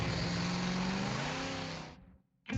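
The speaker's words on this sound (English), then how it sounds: "they'll create that classic muscle car sound and bring new life to your vehicle" A muscle car engine with a high-flow performance exhaust revs loudly and steadily with a deep roar, then fades out briefly before another loud burst begins.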